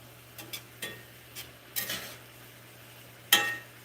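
Paddle cactus cooking in a pan is stirred with a utensil, giving a series of soft scrapes and light clinks over a faint, steady background hum, ending with one sharper knock.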